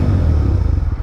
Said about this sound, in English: Let me give it a little bit of a rev actually.